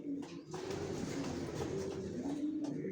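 Young racing pigeons coo in a loft, with soft repeated cooing calls close by over a busy background.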